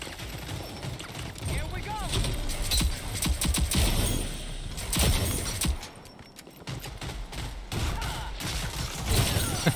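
Rapid pistol fire in the shooter game Rogue Company, fast bursts of shots crackling through busy in-game action with thumps and mechanical clatter, loud and close, with a player talking over parts of it.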